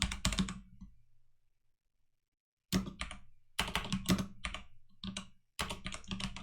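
Keystrokes on a Mac M1 keyboard as a command is typed: a quick burst of clicks, a pause of about two seconds, then several dense runs of close, crisp tapping, with no voices.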